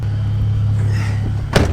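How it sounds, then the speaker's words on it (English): A gasoline truck with an 8-liter V10 idling close by, a steady deep rumble that runs throughout, ending in a short sharp clunk. "this truck is a gasser. It's got 8-liter V10"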